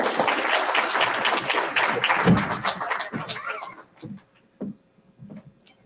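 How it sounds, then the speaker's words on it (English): An audience at an annual award ceremony dinner applauds to welcome a speaker to the stage, a dense wash of clapping that thins into a few scattered claps near the end. "You guys can clap."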